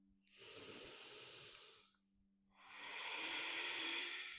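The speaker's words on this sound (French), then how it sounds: "Quelques respirations complètes." Two long, deep breaths during a gentle flexibility and breathing exercise session, each a steady airy rush lasting over a second, separated by a short pause, close and alone with no talk.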